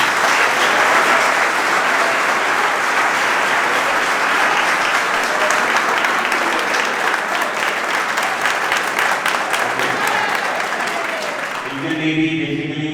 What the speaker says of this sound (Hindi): सबसे पहले तो रमन को उनके अचीवमेंट में तालियां हो।